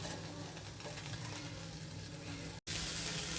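Pointed gourds tip into a pan of sizzling spice paste, setting off a loud, steady hiss of frying and stirring that runs on without a break apart from one brief cut near the end.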